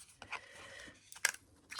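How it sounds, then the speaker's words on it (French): A worn, faulty paper punch snipping small butterfly shapes from paper, giving a few quiet, sharp clicks and crunches spaced apart, close by with no talking. "là-dedans, on va venir découper des petits papillons"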